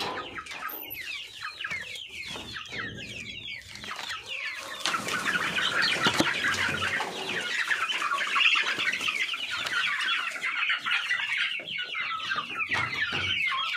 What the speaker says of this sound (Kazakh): Так, міне біздің балапандар.